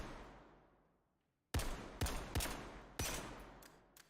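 M249 SAW squad automatic weapon in Zero Caliber firing four sharp, loud bursts about half a second apart, following a fading tail and a brief silence.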